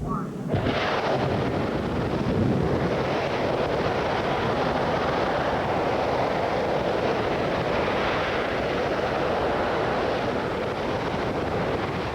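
Space Shuttle main engines roaring in a test firing, a sustained thunderous broadband rumble that starts abruptly and holds loud and steady throughout.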